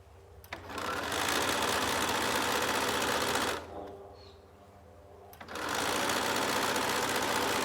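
A sewing machine back-stitching a zipper pouch: a loud, steady mechanical whir that stops briefly midway, then starts up again at full speed, heard close up. No talking.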